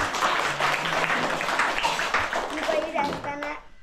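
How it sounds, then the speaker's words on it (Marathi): A school crowd applauds for Neel at a village school farewell for a retiring teacher in the Konkan. The clapping is dense and steady, mixed with children's voices and chatter, and fades out at the end. "नीलसाठी एकदा टाळ्या होऊन दे जोरदार."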